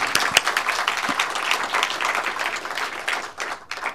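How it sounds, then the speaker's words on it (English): An audience at a professional section meeting gives a round of applause, a steady patter of many hands clapping at moderate distance, tapering slightly toward the end. "So a round of applause for our volunteer members."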